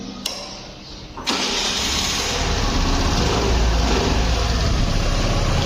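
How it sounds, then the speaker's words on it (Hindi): A Suzuki Burgman Street 125 scooter engine cranks with a brief starter whir, catches, and settles into a loud, steady idle close to the recorder. "जैसे कि पहले बर्मन स्ट्रीट को स्टार्ट करते हैं अपन"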